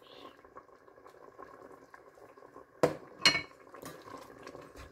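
Peppers, turnips, leeks and spices simmer gently in a pot, giving a soft, low bubbling, broken near the end by a few sharp clanks of a utensil against the cookware.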